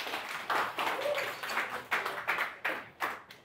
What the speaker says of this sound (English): so that's why they're clapping